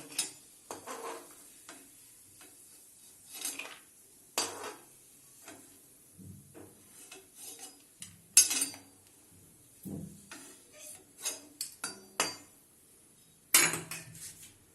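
Fried dry fruits are scooped from hot oil onto a separate plate for moong dal halwa: scattered metal clinks and scrapes of a spoon against pan and plate, with quiet gaps between.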